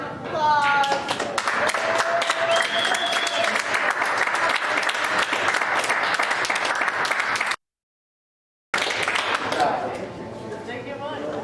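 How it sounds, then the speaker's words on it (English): Sustained applause and clapping fills the room at a pickleball tournament awards moment, loud and steady for several seconds, broken by a short gap before it resumes more thinly with some voices over it. "Give him a round of applause."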